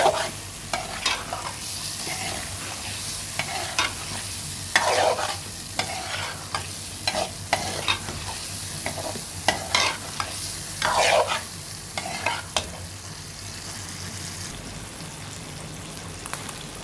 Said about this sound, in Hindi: यहाँ से 2 से 3 मिनट हम को अच्छी तरह से भूनेंगे कि अदरक लहसुन की जो हम खुशबू है वो ख़त्म हो जाए